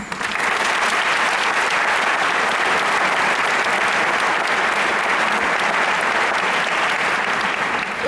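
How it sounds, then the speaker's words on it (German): An audience in the Theater Karlin in Prague applauds, dense sustained clapping from a large crowd that stays loud and even throughout. "Ganz, ganz herzlichen Dank und mein Applaus für Sie."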